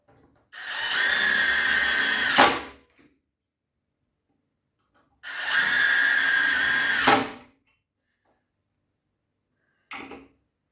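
Cordless impact driver, a Milwaukee FID3 or Parkside Performance PDSSAP-20 Li C3, driving 8x140 mm screws into wood: two loud sustained whining, hammering runs of about two seconds each, then a brief final burst.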